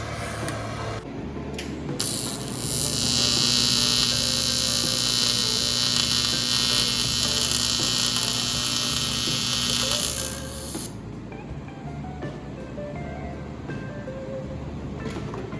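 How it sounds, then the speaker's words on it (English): An aluminum heater core from a 1966 Pontiac being TIG welded, a steady high buzzing hiss that holds for about seven seconds over a constant background hum, then cuts off, leaving the hum alone. "just put some good beads on it and weld it up with the TIG welder"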